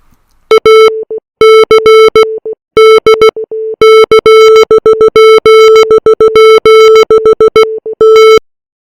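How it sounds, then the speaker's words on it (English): Morse code beeps converted from chords of Shostakovich's String Quartet No. 15: a single loud pure tone keyed on and off in short dots and longer dashes with irregular gaps. "translating those chords using a text-to-audio Morse code converter"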